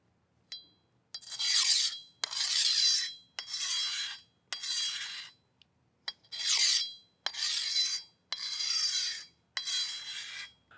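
A machete is sharpened on a double-sided DMT Diafold diamond sharpener in about nine steady, even rasping strokes, each lasting under a second, separated by short pauses, close and clear with no talking.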